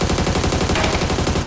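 Rapid automatic gunfire from a first-person shooter video game, a loud continuous burst of closely spaced shots lasting about a second and a half before cutting off.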